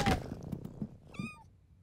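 A cartoon kitten gives a single short meow near the end, after a few soft thumps and bumps.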